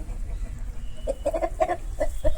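Soft clucking of GP line roosters and chicks at a poultry farm in a quiet barn-like setting, a few short calls in quick succession after a low background hum.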